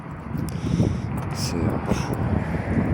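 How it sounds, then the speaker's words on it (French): Gusty wind buffets the microphone outdoors, a constant low rumbling roar that swells and dips throughout, with a person speaking French briefly over it. "oh, il y a du vent."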